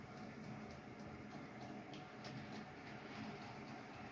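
A small model railway locomotive, freshly converted from DC to DCC, runs along its track with a low, steady motor hum and faint rhythmic clicking, quiet and continuous.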